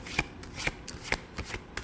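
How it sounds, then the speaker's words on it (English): Tarot cards being shuffled by hand, a quick series of soft papery riffles and flicks, close and fairly quiet, with no voices. "Let us shuffle."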